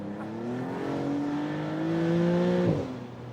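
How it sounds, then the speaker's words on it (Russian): A Maserati MC Pura supercar pulls hard in second gear, its engine note climbing steadily in a smooth rising drone before a brief dip near the end as it lifts or shifts, heard from inside the car with no talk. "Вторая передача легко тянет до 100 км в час, совсем без усилий."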